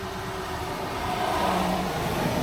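Cars driving on a road beyond an autumn forest: a steady low engine rumble and tire roar that swells slightly as a vehicle passes, heard from a moderate distance.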